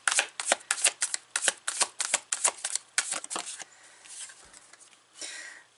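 Tarot cards are shuffled and handled in a quick run of crisp, evenly spaced riffling flicks, close and clear, followed by softer sliding and brushing as the cards are laid out, with no talk.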